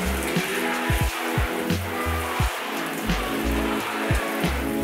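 A handheld shower head sprays water over a waterproof bag to mimic rain, making a steady close hiss with pattering drumming on the bag's surface and a few louder spattering bursts as the spray shifts.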